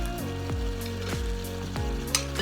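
Cumin blooming in a little oil in a frying pan sizzles and crackles steadily and close up, with a few soft stirring knocks.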